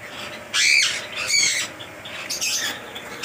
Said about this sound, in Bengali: এটা ইয়েলো ফিশার আছে, এটাও ইয়েলো ফিশার আছে।